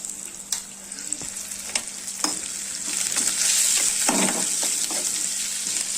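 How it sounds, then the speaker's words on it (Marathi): Steady sizzling of garlic, chilies, curry leaves, cumin, mustard seeds and turmeric frying in hot oil, with occasional spoon taps and stirring, the hiss swelling louder midway. "थोडेसे जिरे आणि मोहरी, याला पण 2-3 मिनिटं चांगलं फ्राय करून घेते"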